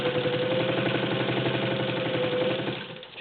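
A vintage Singer 15-91 sewing machine stitches through eight or nine layers of denim, giving a steady, fast mechanical whir with a rapid rhythmic needle beat, close and loud, easing off at the end.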